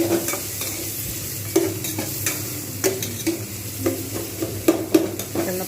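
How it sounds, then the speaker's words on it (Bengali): Onions fry in oil in a pan, a steady close sizzle broken by repeated scraping stirs and light clinks of the utensil, with no voices. "এই তেলটাতে আমি কিন্তু পেঁয়াজগুলো দিয়ে আমি কিন্তু ভালো করে লালচে করে ভাজবো"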